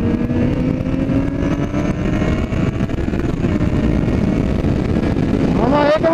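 A Kawasaki Z750 motorcycle cruising on a highway toward São Roque's wine road, a loud continuous engine drone with heavy wind rush, ending in a sharp rising rev as the rider accelerates.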